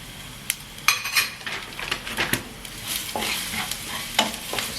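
Turmeric is stirred into a hot pan of lemon rice tempering: a steady sizzle of frying with repeated scrapes and light clinks of a spoon against the pan, close and fairly loud.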